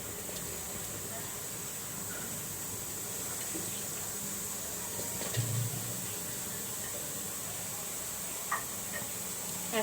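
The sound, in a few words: onions sizzling in a cooking pot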